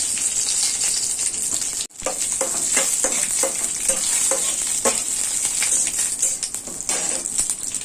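Dried red chili, panch phoron and bay leaf crackle and sizzle in hot oil, a steady bright hiss with a brief dropout near two seconds, then stirring scrapes and pops, close and loud with no talk.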